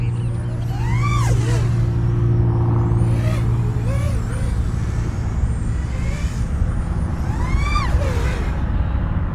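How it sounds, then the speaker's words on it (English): Propellers of a BetaFPV X-Knight 4-inch toothpick FPV quadcopter whine loudly and sweep up and down in pitch as the throttle changes, with repeated rising and falling motor tones under steady wind rush. "It's generating some prop wash when I do the split S right there."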